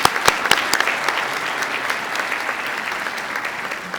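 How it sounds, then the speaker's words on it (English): Audience applause at a school National Honor Society induction ceremony, a steady wash of many hands clapping in a hall, strongest at the start and slowly thinning out over several seconds. "Let's give them a big round of applause"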